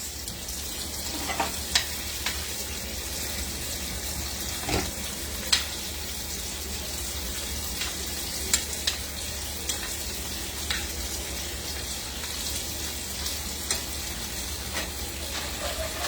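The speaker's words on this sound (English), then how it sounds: "I'm over here about to burn this flour" Flour browns in a hot pan for tomato gravy, giving a steady low sizzle. Scattered scraping and tapping clicks from stirring mark a loose, irregular rhythm over a long stretch, with no talking.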